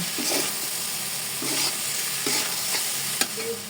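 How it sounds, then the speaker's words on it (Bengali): Dried plum pickle with chili powder being stirred in a pan, a spoon scraping in short repeated strokes over a soft steady sizzle, close and moderately loud with no talking. "এখন নিয়ে নিলাম 1 চামচ মরিচের গুঁড়ো, ভালোভাবে নাড়বো একটু।"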